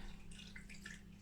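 Bone broth for cats and dogs is poured through a funnel into a storage container, a soft, quiet liquid trickle and gurgle running steadily over a low background hum.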